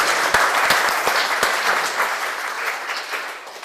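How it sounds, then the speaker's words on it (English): Audience applause breaks out after a science demonstration, a dense, sustained clatter of many hands at close range that holds steady for several seconds before easing slightly toward the end. "now expect a massive round of applause if this works"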